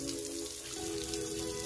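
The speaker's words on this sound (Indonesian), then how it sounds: "aliran air keran." Tap water pours and splashes across a floor being rinsed of cement stains, a steady close hiss of running water with a low drone underneath.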